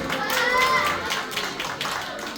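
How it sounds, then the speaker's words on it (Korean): A children's church congregation at a Sunday service claps in welcome, a modest patter of hands heard under and between voices and fading slightly toward the end. "우리 박수로 맞이하겠습니다."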